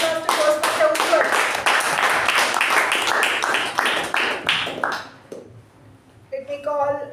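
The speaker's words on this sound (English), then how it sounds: "a big round of applause to Toastmaster Ujwal" A small audience at a Toastmasters meeting claps in a brisk, distinct round of hand claps for several seconds, then fades as a voice begins speaking.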